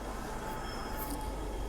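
A Hong Kong MTR M-train waits at the platform before departing, giving off a steady, even hum of idling equipment and ventilation, with no voices.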